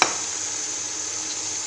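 Potatoes drop into browned onions frying in oil, giving a short initial burst followed by a steady, close sizzling hiss that holds evenly throughout.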